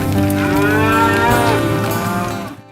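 A single long, loud cow moo from cattle being driven home in the fall, close by and sustained for over two seconds before cutting off, with no talk.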